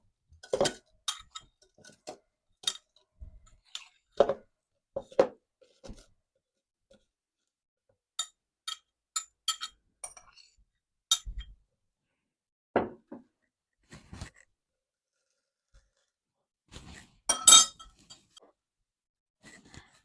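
Frozen peaches tumble into a blender jar in a home kitchen, a run of scattered hard clinks and knocks, some sharp and close, spread irregularly with short quiet gaps between them.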